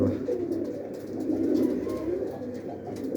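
Pigeons coo in a low, continuous murmur from a loft, with several birds layered together close by and occasional flutters and rustles over the soft humming calls.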